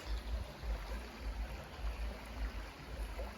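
River water flowing steadily in a low, continuous stream, with a soft pulsing rumble underneath and no voices.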